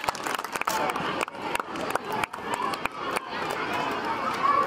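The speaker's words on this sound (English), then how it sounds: "Parents, the claps must go on." Parents clapping and cheering at a school run race during a convent school event, a lively crowd with scattered sharp claps and chatter, voices mixed in throughout.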